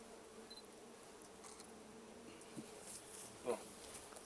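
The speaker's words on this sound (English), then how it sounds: "we've got lots of bees on the inner cover" Honeybees buzzing faintly around an opened hive with broken comb, a soft steady insect drone with a few louder passes close by, no talk.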